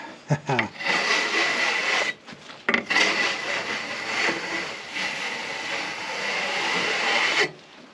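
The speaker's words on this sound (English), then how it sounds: "So let's scrape it off and see what the wood looks like." A tool scrapes across the surface of a spiral-cracked oak log in long, steady, close-up rasping strokes, with a few short bursts at the start and an abrupt stop near the end.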